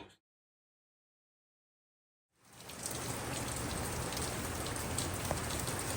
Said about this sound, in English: We're starting to get some of the outer band rains